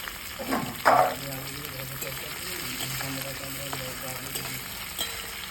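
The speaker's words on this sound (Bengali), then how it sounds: "সেদ্ধ করা আলু তেলে এবারে ভাজা ভাজা করে নেব" Boiled potatoes frying in oil make a steady, close sizzle, with stirring clatter early on and a voice speaking faintly over the cooking.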